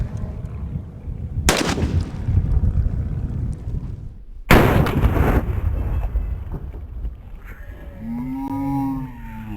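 A .50 caliber gun fires twice, each shot a sudden, very loud broadband blast followed by a rumbling decay, with outdoor ambience between the shots.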